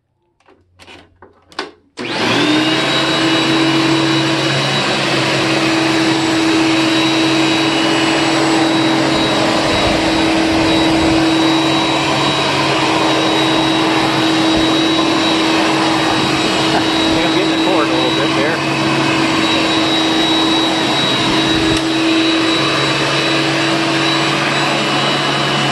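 A 1994 Dirt Devil Classic upright vacuum starts after a few soft clicks and then runs loud and steady while cleaning carpet, a continuous motor whine with a high tone throughout.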